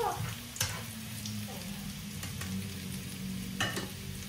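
Garlic frying and browning in a pan, a constant close sizzle with a few scraping stirs and taps of a utensil.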